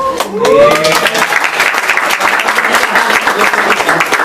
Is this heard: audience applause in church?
yes